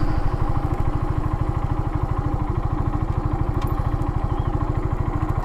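A Kawasaki W175 motorcycle engine runs with an even, rapid thumping beat, close and steady throughout with no talk.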